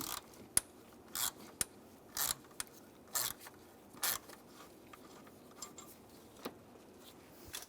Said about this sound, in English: Use a T25 socket to take the screw out.